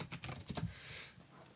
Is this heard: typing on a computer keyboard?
yes